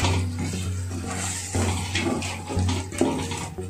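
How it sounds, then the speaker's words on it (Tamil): Half a cup of water poured into prawn biryani cooking in a pot, a steady close splashing pour with some clattering, no talk over it. "வெறும் அரை கப்பு தண்ணி தான் ஊற்றுறோம்."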